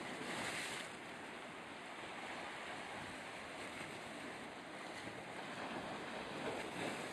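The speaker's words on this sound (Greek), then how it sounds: "Εδώ βλέπουμε την υπέροχη θάλασσα," Sea waves on the Gulf of Corinth wash steadily, a faint, continuous broadband hiss and rush mixed with wind noise on the microphone, with no voices.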